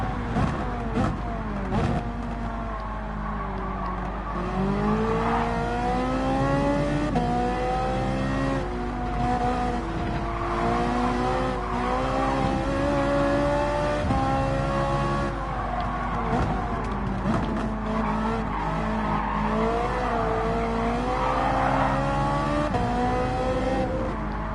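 GT3 race cars in the video game Gran Turismo 7, loud continuous engine roar with rising and falling revs as they accelerate and shift, occasional tire squeal, sustained for the whole stretch without talk.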